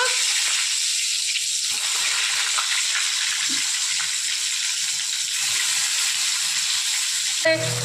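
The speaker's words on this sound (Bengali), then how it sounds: "এখানে হচ্ছে বেগুন ভাজা" Steady, loud sizzling of eggplant slices frying in hot oil, a continuous crackling hiss that runs throughout, with a brief clatter at the very end.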